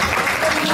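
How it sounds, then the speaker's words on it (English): Applause for sponsors on stage at a community charity gala, a dense steady wash of clapping from the audience that fills the short moment without a break. "let's give them a massive warm round of applause"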